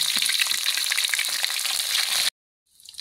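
Pindang fish frying in hot oil until browned, a steady close sizzle and crackle that cuts off abruptly, then a quieter sizzle returns.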